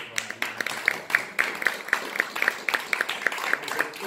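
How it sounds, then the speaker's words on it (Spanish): An audience at the FEDAP 2018 event in Belén applauds Lita Terán with steady, rhythmic clapping in unison. The beats are evenly spaced and moderately loud over a softer background of scattered claps. "un aplauso"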